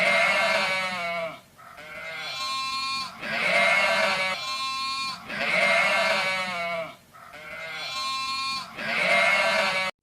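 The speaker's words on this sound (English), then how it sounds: "Sheep." Sheep bleating loudly and repeatedly, long wavering calls one after another with only brief pauses between them.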